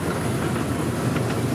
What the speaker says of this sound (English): That's the main train, then we go over on the little one.